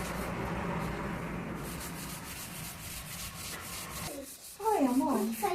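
Steady, close rubbing and scrubbing as crust is scoured off a household surface, continuous and coarse throughout, with a voice briefly heard toward the end.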